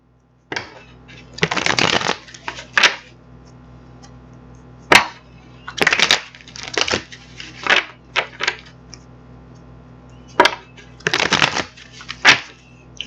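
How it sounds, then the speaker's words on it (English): Tarot cards shuffled by hand, several bursts of crisp riffling and flapping spread across the clip with short pauses between, close and fairly loud, with no talking. "So I'm going to get these cards shuffled up for you"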